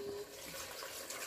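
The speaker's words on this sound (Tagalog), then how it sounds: "Lagyan ko ng tubig." Water pours into a cooking pot while making Filipino tomato-braised pork (kinamatisang karne baboy), a steady faucet-like splashing stream that runs evenly and fairly close throughout, with no talk.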